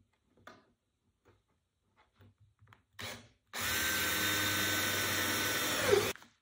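Power drill boring a hole for the rudder hardware on a homemade Sunfish sailboat rudder: a few faint knocks and handling sounds, then a loud, steady whine for about two and a half seconds that stops abruptly.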